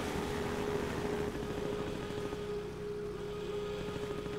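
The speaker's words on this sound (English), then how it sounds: "Ooh, a boat." A boat engine in the video game Half-Life 2 drones steadily at moderate distance, a low constant hum with a faint tonal whine and no talking.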